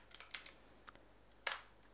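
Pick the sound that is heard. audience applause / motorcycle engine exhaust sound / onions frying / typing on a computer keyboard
typing on a computer keyboard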